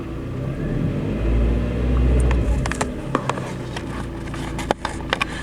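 A Suzuki Vitara that runs badly idles in park with a low rumbling engine note that swells briefly, followed by several sharp clicks and crackles near the end.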